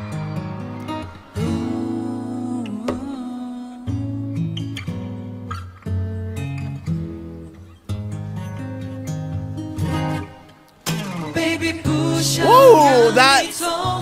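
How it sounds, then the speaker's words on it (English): Acoustic guitar strings are plucked and slid within a live acoustic medley, heard amid dense, loud music with sustained notes and later sweeping vocal-like lines near the end. "That little pluck slide, like plucks the strings and slides down."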